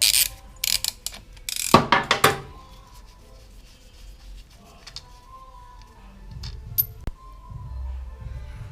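A ratchet wrench loosening the rear wheel parts of a Honda Lead scooter: a burst of rapid, loud ratcheting clicks close up in the first few seconds, followed by quieter metallic rubbing and handling noises.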